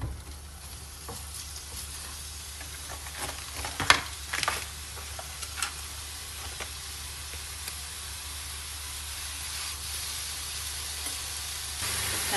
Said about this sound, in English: we're going to just fry that in our fry pan over a medium-high heat until it's well cooked through